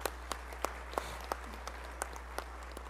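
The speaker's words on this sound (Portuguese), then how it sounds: "Uma salva de palmas." A small audience at a public hearing claps in a sparse, evenly spaced rhythm, the separate handclaps distinct and moderately loud over a constant low electrical hum.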